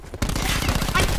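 Rapid automatic gunfire in the video game Call of Duty: Black Ops 4 bursts in after a short quiet start and continues as a loud, dense rattle of shots, with faint talk mixed in.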